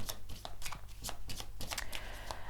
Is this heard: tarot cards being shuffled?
yes